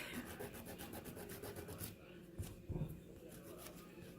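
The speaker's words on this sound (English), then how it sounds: "take a rough buffer and you're going to mark up each nail" A rough nail buffer rasps rapidly across fingernails in fast, faint back-and-forth strokes that stop partway through, leaving a few soft knocks and handling sounds.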